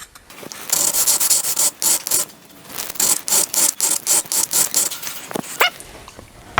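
A blade is sharpened on a 1000-grit diamond honing plate in quick back-and-forth abrasive strokes, a close, loud, rhythmic rasping scrape, with a brief pause partway through.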